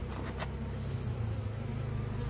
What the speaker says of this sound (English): So that'll allow the older bees to kind of fly off.